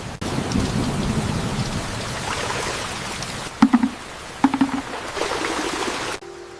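Steady rain pours down in a rural setting, a continuous dense hiss with a few sharp drips or knocks standing out near the end before it cuts off abruptly.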